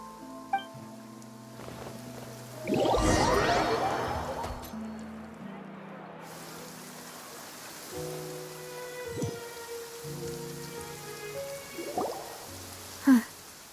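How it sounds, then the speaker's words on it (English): Steady rain falls in the video game Genshin Impact, a soft continuous hiss running throughout, with a louder burst and brief footstep-like thumps while characters speak over it. "It's been raining non-stop for a few days now."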